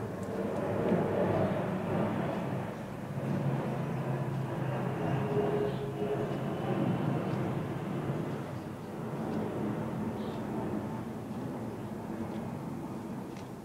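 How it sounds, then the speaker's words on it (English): Propeller airplanes passing overhead outdoors, a steady broad droning rumble that swells and fades slowly, continuous and fairly loud throughout with no talking. "Damn planes."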